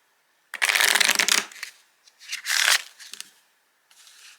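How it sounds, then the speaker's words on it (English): Two loud riffle shuffles of an oracle card deck made of flexible cardstock, each a dense crackling burst of about a second, followed by a fainter brief riffle near the end, with no voices. "Let's give it a shuffle so that I can show the flexibility of this cardstock."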